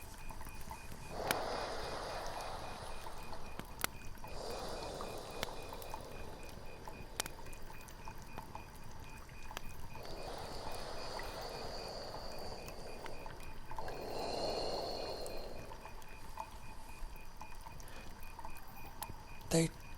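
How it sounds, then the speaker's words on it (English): Slow, heavy breathing in a dark cave, with soft airy breaths rising and falling every few seconds, faint and hollow against a quiet background. "They sounds like breathing."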